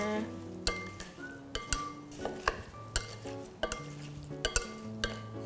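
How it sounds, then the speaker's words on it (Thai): Regular light clinks and taps of a utensil against a bowl as diced fruit salad is tossed and mixed, with soft wet shuffling between strokes. "คลุกเคล้าทุกอย่างให้เข้ากัน"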